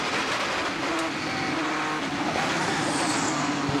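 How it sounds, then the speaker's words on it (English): An 875-horsepower race car accelerates hard up the hill at the Goodwood Festival of Speed, its engine a loud continuous roar with faint tire noise, filling the whole stretch without a break. "Already he's up into 4th gear as he rambles into the first corner. 875 horsepower, ladies and gentlemen."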